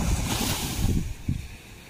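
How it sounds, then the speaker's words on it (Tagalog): Sea waves surge and wash in steady broadband rushes, with wind buffeting the microphone; no one speaks. "Tapat ko na lang sa inyo yung ng dagat. Alon."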